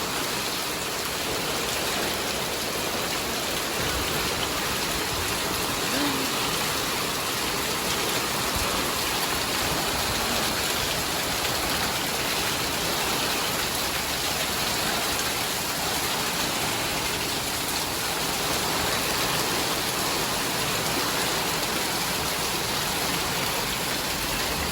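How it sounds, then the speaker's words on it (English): Heavy rain pouring and wind blowing during a big storm, a dense, constant roar of water on surfaces that holds steady and loud throughout with no voices. "Yes, it's pouring and it's windy."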